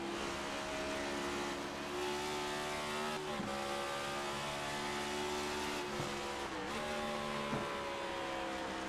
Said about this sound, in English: Hear him downshifting in the corners.